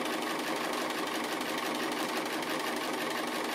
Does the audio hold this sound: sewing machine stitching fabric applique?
yes